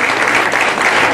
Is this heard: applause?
yes